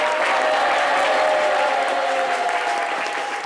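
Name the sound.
audience applause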